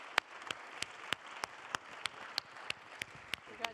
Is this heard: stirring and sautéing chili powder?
no